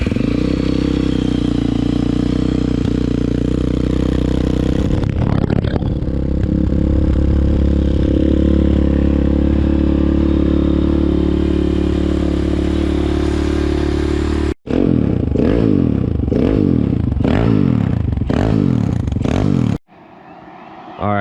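A YCF Bigy 190MX pit bike engine starts, idles in a deep rumbling drone, then revs hard in a series of sharp, loud bursts before cutting off.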